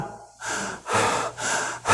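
A person breathes in and out deeply and audibly, with several loud, rhythmic breaths close to the listener.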